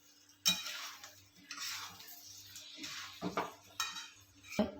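A spoon knocks and clinks against a pan while undhiyu, a Surti mixed-vegetable dish, is stirred. The sharp taps come in several scattered bursts over a quiet hum.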